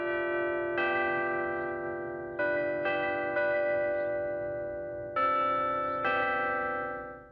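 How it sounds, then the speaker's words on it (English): Church bells ring at a retreat: separate tolled strikes, each one a clear metallic tone left to fade. The strikes come at an uneven pace, moderately loud, with no other sounds. "it is the ringing of the bells."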